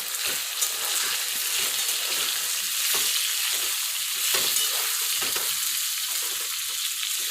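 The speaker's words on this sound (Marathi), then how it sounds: "त्यात आपण स्टफ केलेले काले टाकून घ्या आणि व्यवस्थित तेलावरती परतून घ्या" Stuffed bitter gourds stir-fry in hot oil with fried spices, a steady close sizzle with scraping stirs running throughout, no voices.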